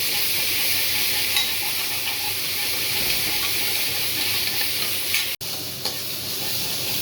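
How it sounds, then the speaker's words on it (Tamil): Onion, garlic, ginger, coriander leaves and mint sauté in hot oil for a vegetable biryani, giving a steady, loud, close sizzle with occasional stirring scrapes and no voices. "வெங்காயமும் பூண்டும் இஞ்சி பூண்டு வதங்கிடுச்சு"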